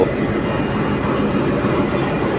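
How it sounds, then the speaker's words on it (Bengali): A train pulling away on the Rupsha rail bridge in Khulna, with a steady, loud, continuous rumble of wheels and carriages running close by and no voices over it. "এখন আমাদের ট্রেনটা ছেড়ে দিয়েছে"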